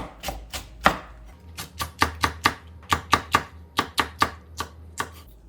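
Red chili peppers sliced diagonally with a knife on a cutting board for spicy stir-fried webfoot octopus, a steady series of crisp, close chops in irregular rhythm with no talk.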